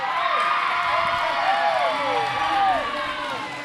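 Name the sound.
hometown crowd cheering at a roller derby bout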